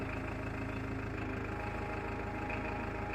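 Farmtrac 6055 Worldmaxx 55 HP tractor engine running steadily while gears are changed, a close, even diesel chug with constant loudness and no talk.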